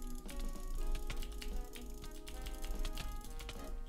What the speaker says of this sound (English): I'm trying to W tap with a typewriter.